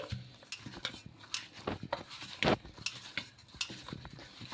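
Hands mixing semolina dough in a bowl while making rumali paratha, a series of soft, irregular squishing and slapping pats, quiet and close, with no speech.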